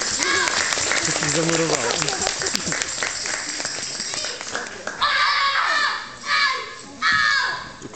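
Studio audience applause at a televised karate show in Lublin, a steady dense clapping wash that runs throughout, with a voice talking over it and a few brief swells near the end.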